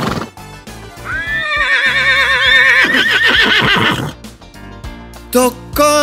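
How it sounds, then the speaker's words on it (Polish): A horse neighs loudly and close, a long rising and wavering whinny followed by snorts, with a few hoof clops around it. "Koń rży."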